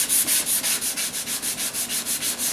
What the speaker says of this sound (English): look at your sandpaper often when you see that glazing over